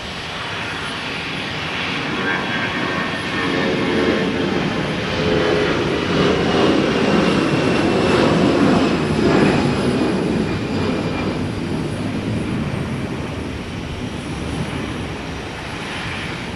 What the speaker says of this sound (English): runway 17, clear for takeoff.